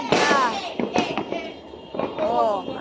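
New Year fireworks go off outdoors in a series of sharp cracks and bangs, some close and loud, with crackling bursts between them and people talking nearby.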